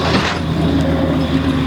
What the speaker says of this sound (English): that was a big truck going by